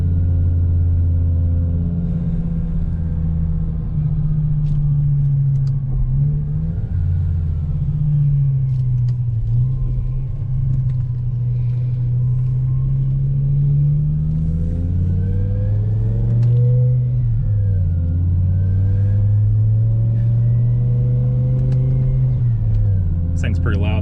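A BMW E60 M5 with the S85 engine revving steadily on a test drive, a loud rumbling engine tone rising and falling in pitch as it accelerates, with someone talking over it.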